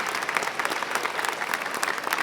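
An audience at a school investiture and oath-taking ceremony at Beersheba International breaks into loud, dense applause that carries on steadily.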